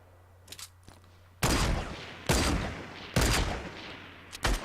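Gunfire in the video game Fortnite Battle Royale: a few soft, distant shots first, then four loud, sharp bursts spaced about a second apart.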